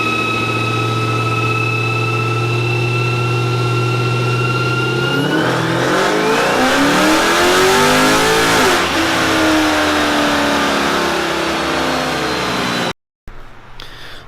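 A 2005 Ford Mustang GT on a dyno idles steadily, then climbs into a loud, rising rev with sweeping engine tones through a hard pull, followed by a sharp cutoff and brief silence.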